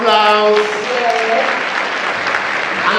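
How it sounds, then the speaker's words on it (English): Applause for Ndindi Nyoro rises after a voice trails off, then broad, fairly close clapping fills the room and holds steady to the end. "Let's give him another warm round of applause."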